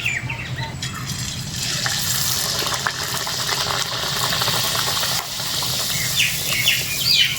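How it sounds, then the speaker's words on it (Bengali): Bubbling, crackling hiss of luchi flatbreads made with palm fruit frying in hot oil in a wok, steady and close with occasional sharper spatters. "আমার কড়ার তেলটা গরম হয়ে গেছে এবার লুচিগুলো ভেজে নেবো"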